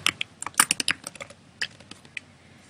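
A phrase being typed on a computer keyboard: a quick run of crisp, close keystrokes clustered at the start, then a few sparser taps trailing off, with no voices.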